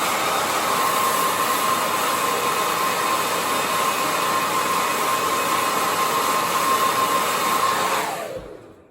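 Hair dryer on its hottest setting blowing on a hair brush to heat it, a loud steady close-up roar with a faint whine that holds for several seconds, then cuts off and winds down.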